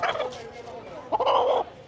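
Village country chickens calling nearby, a few short gobbling or clucking bursts, with a louder burst near the end.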